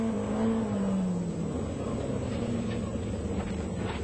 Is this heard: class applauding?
no